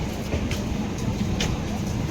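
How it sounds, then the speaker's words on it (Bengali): A train passes at a railway station, giving off a steady broadband rumble with a faint rattle throughout. "তো দেখতে থাকো ট্রেনটা যাচ্ছে কি সুন্দর লাগছে দেখতে"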